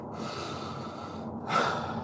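Shallow rapid breathing, a few sharp, snorting breaths drawn in and pushed out close to the microphone over a steady background hiss.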